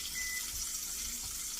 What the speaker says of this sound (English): I'm just going to pour this right in the casserole